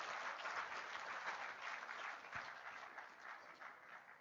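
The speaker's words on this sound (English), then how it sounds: "Let's give a big round of applause to sir." Audience applause at a university induction event, a dense steady wash of clapping from a large crowd that holds for several seconds without a break.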